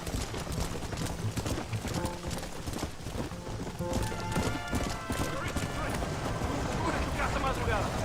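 Horse hooves clip-clop at a quick, steady pace in the Red Dead Redemption video game, loud and close, while a voice talks over them and game sounds fill the background.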